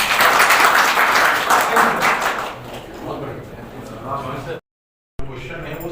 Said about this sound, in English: I would like you to clap loudly for every one of us here